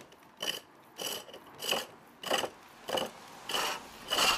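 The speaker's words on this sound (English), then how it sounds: "So we're going to use the spindle gouge now, which is the same as the roughing out gouge," A spindle gouge cuts wood on a pole lathe, giving rhythmic rasping scrapes that come in steady bursts about every half second, each stroke close and crisp, alone without talk.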